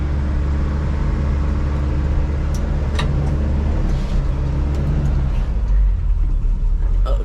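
A 1981 Ford Courier U-Haul mini truck running with its choke pulled, a loud, continuous low idle rumble close by, with a few faint clicks and rattles on top.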